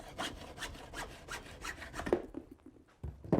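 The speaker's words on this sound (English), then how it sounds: "use a hacksaw to cut off the damaged end" A hacksaw cuts through the wooden end of a wire brush in quick, even back-and-forth strokes, close and crisp for about two seconds, then stops with a few scraping touches.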